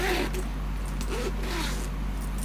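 The zipper on the top of a sewn Celeste east-west handbag is pulled, a few raspy zipping strokes close by, with low room noise underneath.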